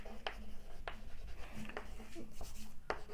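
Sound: writing by hand

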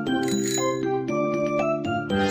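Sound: bicycle bell

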